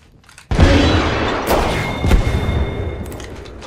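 Frag grenade explosion in the Apex Legends video game: a sudden heavy boom that opens loud and sustains a rumbling, crackling tail with a second blast-like hit partway through, amid game gunfire.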